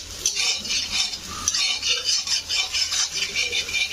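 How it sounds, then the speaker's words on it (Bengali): Egg fries in ghee while a utensil stirs and scrapes briskly around the pan, giving a rapid, rhythmic scraping over a light sizzle close by. "এইভাবে একটু ভেজে নিতে হবে ঘিটাকে, ডিমটাকে একটু ভেজে নিতে হবে"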